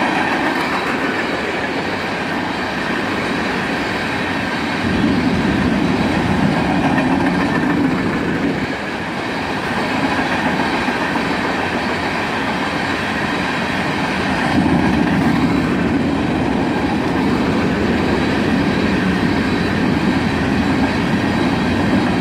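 CSX unit freight train of black cars rolling past, a continuous loud rumble with rhythmic clickety-clack of wheels on rail joints and faint squeal, steady throughout with no voices.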